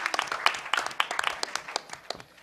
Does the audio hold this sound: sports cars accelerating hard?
no